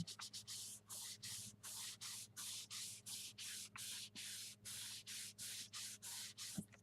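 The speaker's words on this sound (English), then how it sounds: "Just rub it. You want to rub kind of hard. Get it stuck down good." Hard rubbing of glued paper onto a junk journal page, a close, loud rhythmic swishing scrape in about fifteen regular strokes, each a short burst of friction noise with brief pauses between, alone without talk.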